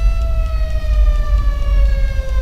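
Ambulance siren in the video game GTA V, a loud steady electronic wail that holds a sustained tone with a slight downward drift over rumbling low background noise.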